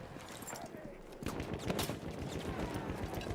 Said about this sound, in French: je prends des balles, je prends des tirs de balles